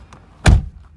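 A Toyota Corolla door released with its interior handle, a single short, loud latch clunk close by with a faint click just before it.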